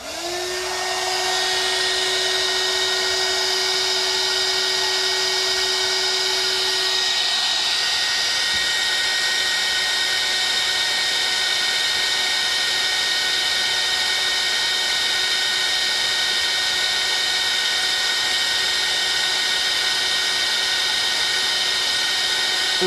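A hot air tool blows a loud, steady, whining stream of air onto a stuck sewing machine needle bar, droning on without a break from start to finish.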